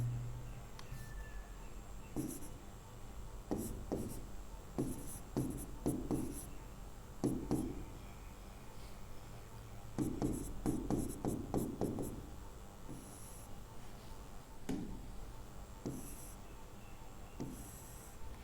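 Chalk or pen scratching out letters on a board in a classroom, a steady run of short rasping strokes in bursts with brief pauses, close and fairly quiet with no talking.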